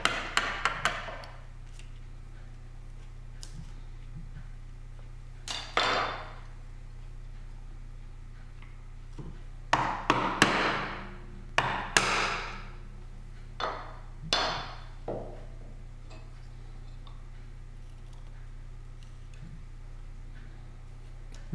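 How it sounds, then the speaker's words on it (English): A mallet strikes a chisel while chopping out wooden dovetail waste, giving sharp, close knocks singly and in quick pairs, scattered irregularly across a quiet workshop hum. "it's just a matter of chiseling them out"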